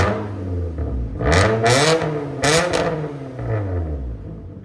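A 2013 Nissan Altima coupe with a 2.5L engine and straight-piped exhaust with a 2.5-inch high flow cap revs in a few loud, close bursts, the pitch climbing and falling between rises.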